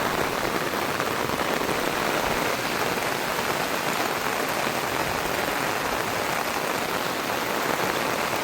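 Heavy rain pours steadily onto an open field beside an eggplant garden during a sudden downpour in Sri Lanka, a dense unbroken hiss with no letup and no voices.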